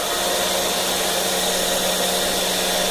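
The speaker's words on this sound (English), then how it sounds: "I'm going to switch a blower on that will blow the debris away while I'm engraving" An engraving machine's debris blower runs steadily with a loud, even whooshing hiss and a faint hum underneath, unchanging throughout.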